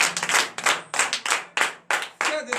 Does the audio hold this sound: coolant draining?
no